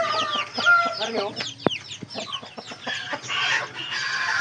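Short tail Shamo and Basilan Aseel chickens clucking nearby, a mix of repeated clucks and short squawks in quick succession, with a person speaking briefly among them.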